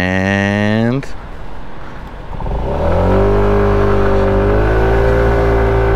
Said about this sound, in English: going from engine off to wide open throttle, that's the worst case scenario for something like this